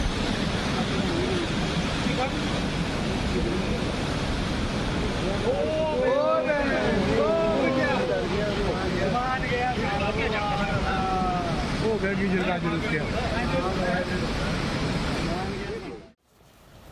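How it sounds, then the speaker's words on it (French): A raging flooded river torrent roars in a loud, constant broadband rush that sweeps away houses, with a voice talking over it midway before the sound cuts off abruptly near the end. "le torrent déchaîné a emporté des maisons toutes entières, les réduisant en décombres en à peine quelques secondes"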